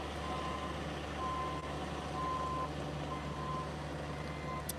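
Truck reversing alarm sounding as a steady series of evenly spaced beeps over a constant, fairly loud background of engine and street noise, no talking.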